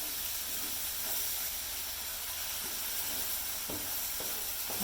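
Egg masala sizzles and hisses steadily in a pan as it is stirred, a dense continuous frying crackle with a few soft scraping knocks of the spoon.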